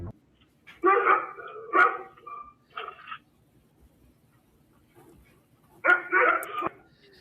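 A dog barks in short, loud bursts, a few quick yips close together, then a pause and another clustered volley near the end, with faint background noise between.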